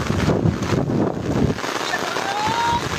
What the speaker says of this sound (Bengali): আমি ছাতাও ধরে রাখতে পারতেছি না এত বাতাস বৃষ্টি